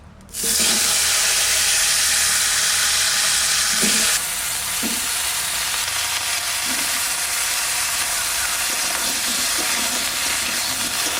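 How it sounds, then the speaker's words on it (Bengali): Potatoes drop into hot leftover fish-frying oil in a pan over a village wood fire, bursting into a loud, sudden sizzle that eases slightly after a few seconds and then hisses steadily, with faint stirring knocks. "এবার আলুগুলো দিয়ে দিচ্ছি"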